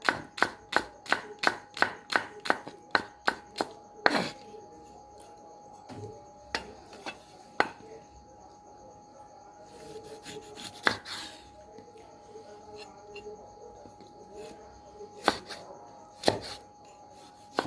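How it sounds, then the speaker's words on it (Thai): A knife chops steadily on a cutting board while preparing crispy pork, a fast run of sharp taps at first, then slower, scattered cuts with quiet gaps between. "ต้องหั่นอย่างนี้นะครับเพื่อน"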